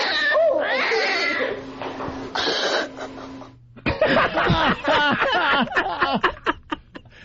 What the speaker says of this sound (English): No, that's not the fun sound of a cat.